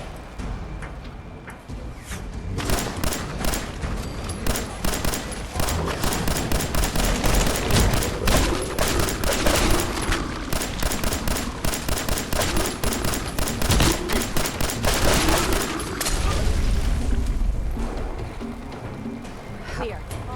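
Rapid bursts of gunfire from a firefight in the video game Fallout 4, dense and continuous for most of the stretch, loud and close, with shouted speech mixed in over the shooting.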